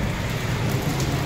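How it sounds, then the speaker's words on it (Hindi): Rainwater streams and gushes through a drain near a house during heavy rain, a dense, constant wash of water with no voices. "ये बारिश का पानी है"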